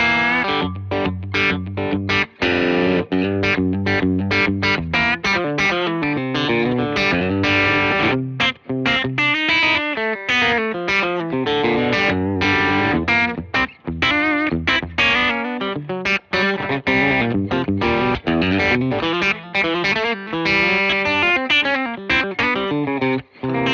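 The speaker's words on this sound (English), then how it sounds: "Kick a little compression on." An electric guitar run through Fender effects pedals with compression and distortion plays a continuous chorused, reverberant riff, loud and close for over twenty seconds, with no talking.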